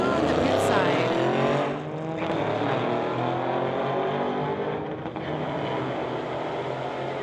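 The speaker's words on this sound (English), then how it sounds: "We've got a Volkswagen on the spectator side versus the Mustang on the pit side." Drag race between a Volkswagen and a Mustang at a street-legal drag night, with loud engine roar and rising revs sweeping past, as a commentator talks over the noise.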